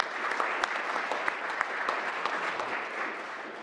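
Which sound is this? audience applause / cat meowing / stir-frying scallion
audience applause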